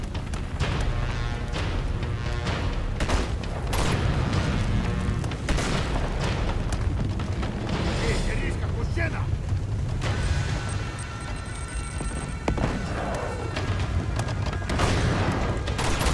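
Explosions in the action game Uncharted 2: Among Thieves: dense, loud, continuous booming and rumbling blasts with crackling bursts throughout, no voices.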